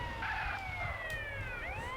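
A police siren in GTA San Andreas wails with rising and falling tones, heard up close and steady over the low engine rumble of the game vehicle.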